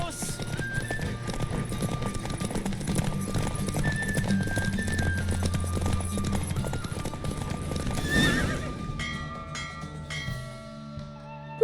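A horse gallops in a race in the video game The Witcher 3: Wild Hunt, with steady rapid hoofbeats and whinnies under game music and spoken lines, ending in a short tonal fanfare.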